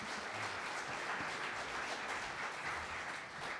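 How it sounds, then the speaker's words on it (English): Audience applause for the panelists at a housing panel discussion, a steady, fairly quiet wash of clapping from a modest crowd lasting throughout, with no talk over it. "Another round of applause for our panelists"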